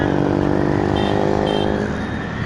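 A modified Honda City on a Chennai road revs hard through a loud aftermarket exhaust, giving a dense, sustained roar that fills the short stretch and eases only slightly at the end.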